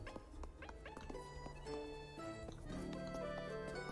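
A video-game dog barks and whimpers in short yips over a steady musical backdrop in a 90s anime-styled horror game, quiet and brief.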